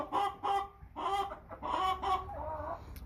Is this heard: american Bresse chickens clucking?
yes